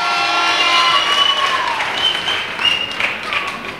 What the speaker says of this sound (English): Just clap your hands for that.